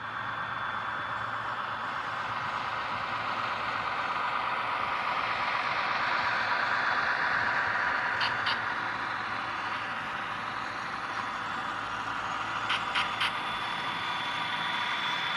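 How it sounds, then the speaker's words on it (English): Model Alco 425 diesel locomotive on an HO layout gives a steady, continuous engine drone in stereo, moderately close, with a faint high tone and a couple of brief metallic clicks partway through. "Oh, the sounds of the diesel engines are really fun. You can hear it in stereo."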